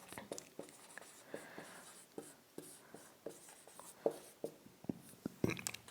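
Marker or chalk strokes on a classroom board during a Hindi physics lesson about light sources, a steady series of short scratchy taps and squeaks, close and fairly quiet, with no talk over them.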